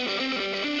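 Dry lead electric guitar with distortion and no delay, in a rock song mix, playing a sustained bending melodic line with a dense, gritty, continuous tone.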